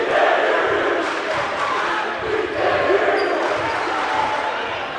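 Rival crowds at a varsity high school basketball game between Mount St. Joseph and St. Frances Academy roar and chant in a loud, sustained gym din, while a voice talks over the noise.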